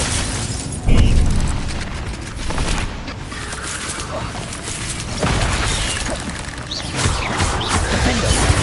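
Confringo spell blasts in Hogwarts Legacy gameplay, a loud booming impact near the start followed by further bursts and crashing effects over a dense, continuous game soundscape.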